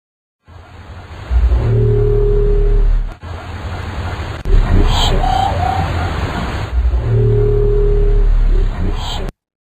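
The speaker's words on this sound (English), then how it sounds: "we're going to play the weird Mariana Trench biotwang sound" Recorded Mariana Trench biotwang attributed to a minke whale: a low rumbling pulse followed by a long metallic twanging tone, repeated twice over a steady hiss, fairly loud and alone.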